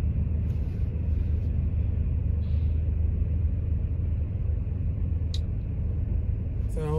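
A car driving on the road, a steady low engine and tyre rumble held continuously with a muffled cabin drone throughout, a few faint brief chirps near the end.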